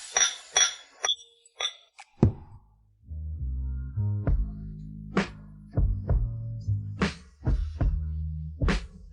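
Several bright glass clinks ring out in a quick cluster during a toast, followed by a low, steady hum with more sharp clinks and knocks scattered over it, fairly close by.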